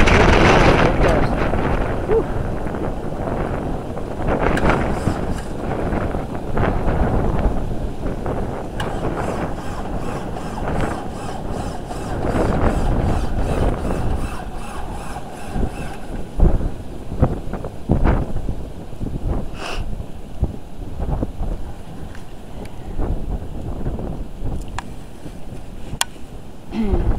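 Loud blizzard wind buffets the microphone in steady, roaring gusts with low rumbling bursts throughout, while someone briefly speaks over it outdoors.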